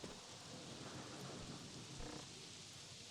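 A heavy rainstorm in the survival video game Go Wayback, a dense, steady roar of rain that runs unbroken and fills the whole stretch, with no voices over it.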